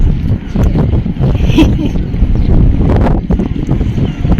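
Strong seaside wind at Dieppe in Normandy buffets the microphone with continuous loud rumbling gusts, while a voice talks faintly in the background.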